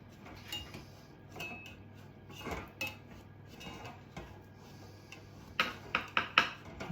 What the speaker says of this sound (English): I'm just loosening the cake from the sides of the tin, trying to be gentle with the palette knife